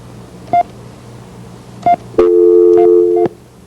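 Telephone line tones on a call-in radio show just after a caller is cut off: two short separate beeps, then a loud steady dual-tone signal lasting about a second with a click at the start and end, alone and close.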